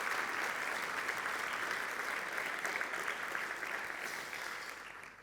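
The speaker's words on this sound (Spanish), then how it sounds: "Y un aplauso muy fuerte para esas personas que ya no están con nosotros" Audience applause at a talk on overcoming addiction, a steady dense wash of many hands clapping that holds level for several seconds, then begins to thin and fade toward the end.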